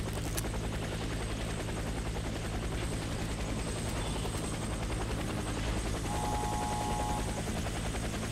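Helicopter in the shooter game Warface, with loud, close rotor thumping and engine drone running continuously and evenly throughout.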